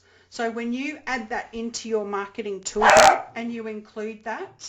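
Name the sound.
dog barking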